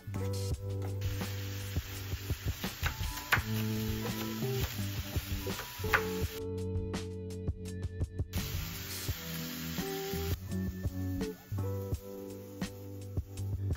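Chicken frying in a pan with a splash of soy sauce, giving a steady, close sizzle with stirring scrapes, under a continuous musical backing.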